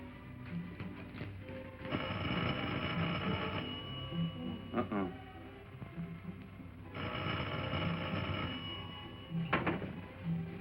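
A telephone rings in two long bursts separated by a pause, faint and slightly distant, with light background noise between rings, in a 1951 film.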